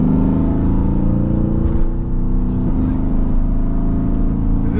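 A tuned 2017 Mercedes-AMG GT with upgraded AMG GT R turbos runs with a steady low engine drone, a slight rev change midway, heard from inside the cabin.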